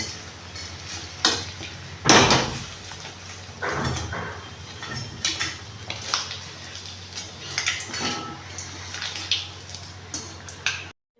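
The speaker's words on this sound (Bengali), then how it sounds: "এবার আমি 2 পিস ভেজে নেবো।" Paneer pieces fry in a pan with a steady close sizzle, broken by a few louder bursts and scrapes or clinks of a utensil against the pan, with no voices.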